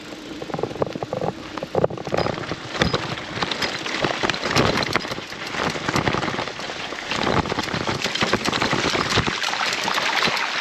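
A mountain bike rides through a creek on a forest track, giving a steady close splashing and spattering wash of water with rattling from the bike throughout, no talking.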